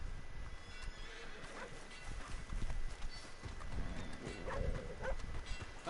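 In the video game Red Dead Redemption 2, a horse whinnies while hooves clop unevenly on the ground nearby, with no voices.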